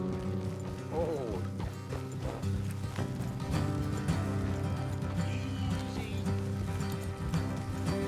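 Horse hooves clip-clop steadily in Red Dead Redemption 2, mixed into a busy game soundscape with a continuous music bed and occasional mechanical clinks, the hoofbeats fairly close but partly masked.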